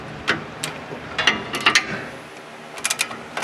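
A ratchet clicks in short quick runs while turning a bolt on a Ford Ranger automatic transmission mount, close and crisp, with brief gaps between bursts.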